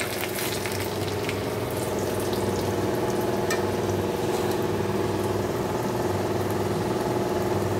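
Crushed garlic hits hot oil with cumin and chili in a home kitchen pan, giving a steady, loud, even sizzle that holds unbroken throughout with no talking.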